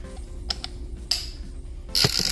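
A torque wrench works a bolt on a Harley shovelhead engine top end, giving a few distinct ratcheting clicks and bursts of metallic clatter separated by short pauses, close and crisp against a quiet shop.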